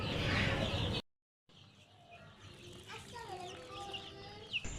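Hybrid Sonali chickens kept in a large rooftop flock cluck and call at moderate distance after a brief cut, with repeated short clucks over a continuous murmur of the flock; a voice is heard briefly at the start.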